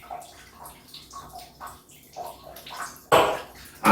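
Liquid poured down into a glass beer bottle while bottles are cleaned for home-brewed beer bottling, a trickling, splashy pour that builds to a louder gush near the end, with no talking.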